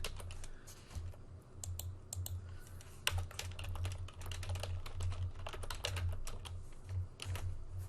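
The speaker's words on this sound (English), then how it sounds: "I'm going to type in display" Steady typing on a computer keyboard while entering CSS code, with a dense run of close, crisp key clicks and occasional sharper keystrokes over a low background hum.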